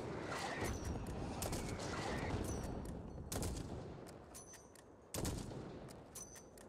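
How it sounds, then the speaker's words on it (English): Sniper rifle fire in the Call of Duty Modern Warfare campaign, on the Highway of Death mission: several sharp, booming shots at irregular intervals over a constant din of battle, fairly faint overall. "It's a sniper that shoots weirdly."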